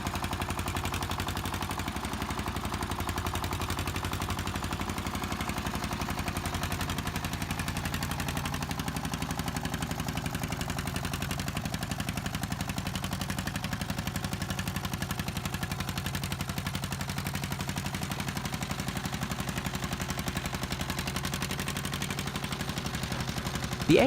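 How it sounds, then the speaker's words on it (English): An AS2 stationary engine drives a double-toggle stone crusher that breaks river rock and hard stone, giving a dense, steady, rapid thumping clatter that runs unbroken and loud for the whole stretch. "The AS2, with its steady thumping beat and reputation for reliability, was well suited to this hard labor."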